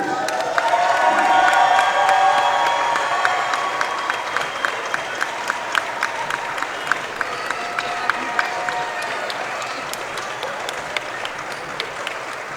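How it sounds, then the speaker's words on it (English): Crowd applause with cheering and whoops for championship basketball teams at the 2017 USA South men's tournament, loudest at the start, then thinning into scattered claps that continue to the end. "can we give one more round of applause for these players, their teams, and coaches?"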